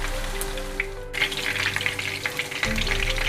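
Daal kebabs fry in a pan with a steady, close sizzle that crackles and pops throughout, brightening after a brief pause near the start.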